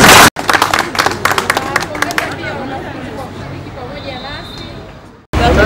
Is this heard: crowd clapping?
yes